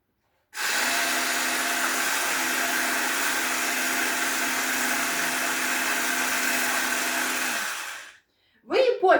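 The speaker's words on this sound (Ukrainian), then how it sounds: "я зроблю, можна блендером. Блендер в Оксани потух, а це ще працює." An electric blender whips coconut cream with a loud, steady whirring drone that runs for about eight seconds and then cuts off, with a voice starting right after.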